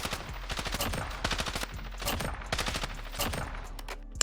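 Rapid automatic gunfire from an assault rifle in the Warzone video game, a dense rattling stream of shots with brief pauses between bursts, loud and close throughout.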